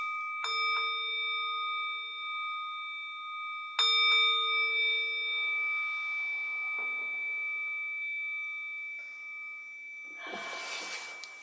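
Bells ring during a meditation gathering, two clear struck tones a few seconds apart with long, sustained ringing decays, a fainter chime later, and a soft rustle at the end.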